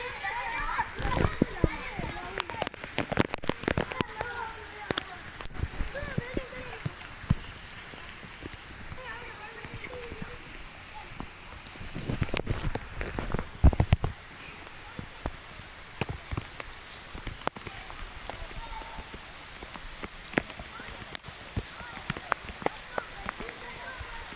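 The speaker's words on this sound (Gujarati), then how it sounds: "વરસાદ હારો જામ્યો છે" Heavy rain falls and patters onto surfaces nearby, a fairly quiet hiss punctuated by irregular splashes and drips, with people talking and laughing over it at intervals.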